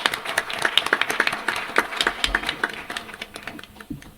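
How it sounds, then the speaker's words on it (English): Sparse, scattered clapping from a forum audience thanking a panel of speakers, a handful of hands tapping unevenly before thinning out toward the end. "can we give a great round of applause to our current panelists?"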